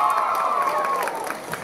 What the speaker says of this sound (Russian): Разумеется, под ваши громкие аплодисменты!